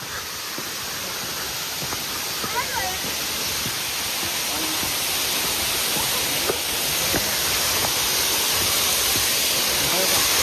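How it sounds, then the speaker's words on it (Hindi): Lover's Leap waterfall near Nuwara Eliya, Sri Lanka, pours as a loud, continuous broadband rush that swells slightly over time, with someone talking faintly under the roar. "ये है मेरे पीछे वाटरफॉल"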